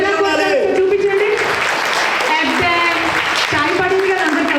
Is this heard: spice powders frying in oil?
no